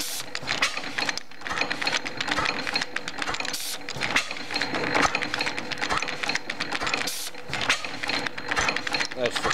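A 5 HP Springfield gas engine runs with its governor and fuel injector working, a busy rapid mechanical clatter of valves and gears ticking steadily and close, with a voice talking over it.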